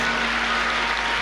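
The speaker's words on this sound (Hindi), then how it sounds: "एक बार ताली बजाएं।" Congregation in a church clapping together during a sermon, a brief, dense burst of many hands filling the room evenly with no voices over it.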